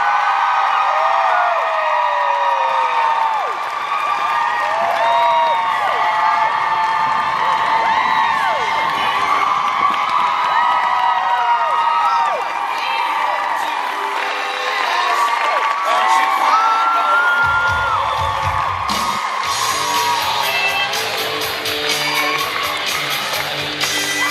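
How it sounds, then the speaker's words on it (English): Convention fans roar for Jensen and Jared at a Supernatural convention gold panel: sustained loud cheering, shrill screams and whoops mixed with applause from a large crowd, swelling near the end. "Please give them a nice round of applause."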